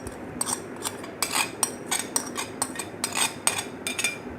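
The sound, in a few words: cream being mixed in a mixing bowl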